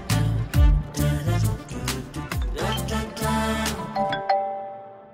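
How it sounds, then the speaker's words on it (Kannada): A mobile phone rings with an incoming call, its melodic electronic tone repeating in a steady rhythm, loud and close, then the last note trails off into quiet. "ಮತ್ತೆ ಅದೇ ನಂಬರಿಂದ ಫೋನ್ ಬರ್ತಿದ್ಯೋ?"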